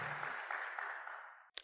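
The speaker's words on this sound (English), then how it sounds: "please once again give a round of applause to my panelists as I join them there" Applause for panelists at an Africa Day event. The dense clapping fades away steadily and cuts off, followed by a brief sharp knock.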